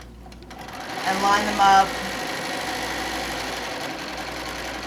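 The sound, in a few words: sewing machine stitching quilt pieces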